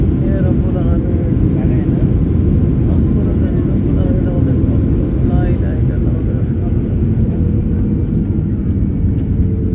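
A passenger airliner's engines roar in a loud, steady, low rumble inside the cabin just after landing in Dhaka after a storm, with a voice faintly heard over the drone.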